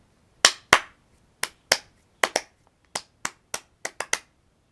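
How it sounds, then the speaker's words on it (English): Light hand claps tap out the Dvorak rhythm in pairs and short groups, eleven crisp sharp claps close up against near silence. "So, if I were to clap the Dvorak rhythm,"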